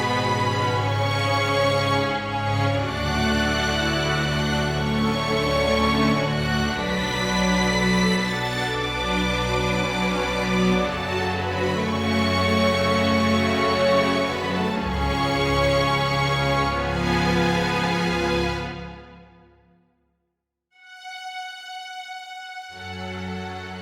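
Film score music for tragedy and grief swells with dense sustained orchestral harmonies and low bass, playing loud and continuous before fading to near silence, then a quieter passage resumes.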